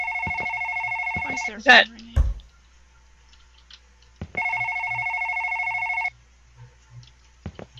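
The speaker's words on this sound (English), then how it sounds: "The phone's ringing." A telephone rings in two separate trilling bursts late at night, loud and close, with a short spoken word and a few clicks in the quiet gap between rings.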